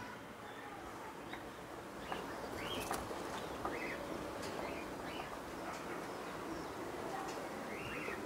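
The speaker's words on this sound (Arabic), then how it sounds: "حمام مران داخل مع حمامي الخوت" Domestic pigeons cooing in repeated soft, rolling calls at moderate distance over a steady background hiss, with faint chirps mixed in.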